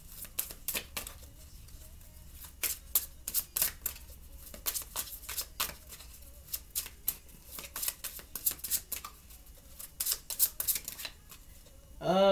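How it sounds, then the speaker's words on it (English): Tarot cards shuffled steadily by hand, a long run of quick, crisp riffling bursts and soft slaps in irregular clusters, close and clear, with a louder rustle at the very end. "I'm just like steady shuffling here."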